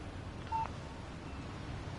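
A cell phone in the video game Alan Wake gives a single short electronic beep as a text message alert, faint and brief against a quiet background.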